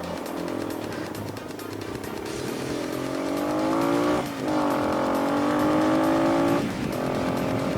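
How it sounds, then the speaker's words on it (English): Steady roar of road traffic with vehicles whooshing past close by, engines and tires rising and falling as each car goes by. "You would not see this much traffic a couple years ago."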